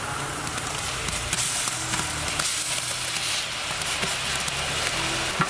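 Ginger garlic paste frying in hot oil for a mutton biryani, a steady broadband sizzle with faint crackles and occasional stirring scrapes, continuous and moderately close, with no talking.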